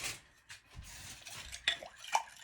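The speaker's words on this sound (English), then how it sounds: "stir that up till you dissolve the sugar" About half a cup of sugar stirred in a mixing bowl with a utensil, heard as soft, close scraping and light clinks against the bowl in an irregular rhythm.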